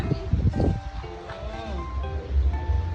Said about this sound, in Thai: บรรยากาศวันนี้นะลมแรงมากค่ะทุกคน